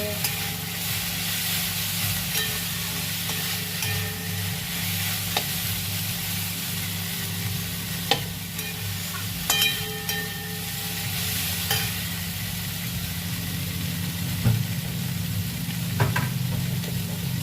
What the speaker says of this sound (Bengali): এবারে আস্তে আস্তে ভাজা হবে।